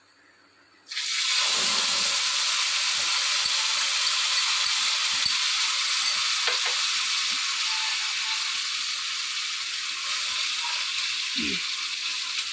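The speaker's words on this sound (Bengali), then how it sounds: "এই মশলার পেস্টটা আমি এই কড়াইয়ের মধ্যে দিয়ে দিলাম।" Spice paste for a boal fish roe curry is dropped into hot oil in a kadai; after a second of quiet a sudden loud sizzle bursts out and keeps hissing steadily, with faint stirring knocks.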